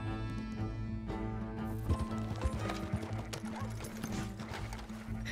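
Horse hooves clopping at a steady gait in Red Dead Redemption 2, moderately close, layered over a sustained musical drone, with a brief whinny-like tone and a voice speaking.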